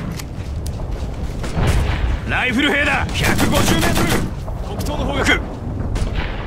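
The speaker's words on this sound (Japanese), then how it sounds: "制圧射撃中" Sustained suppressive rifle and machine-gun fire in the Operation Flashpoint: Red River military shooter game, loud overlapping bursts and booms, with radio-style voices speaking over the gunfire.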